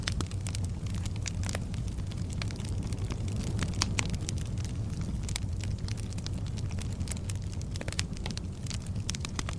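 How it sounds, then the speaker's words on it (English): A fire crackles under heavy steady rumble and hiss, with a continuous run of sharp pops and snaps spread across nearly ten seconds and no voices. "The fire crackles low"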